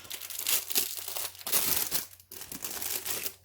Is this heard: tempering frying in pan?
no